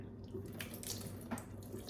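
Distilled water splashes into a sink in a continuous, uneven trickle with small splatters, fairly quiet and close, with no voices.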